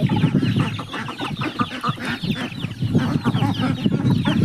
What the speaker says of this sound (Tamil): இந்த கோழியை நம்ம தொட்டாலுமே பயப்படாம சாப்பிடுது பார்த்தீங்களா.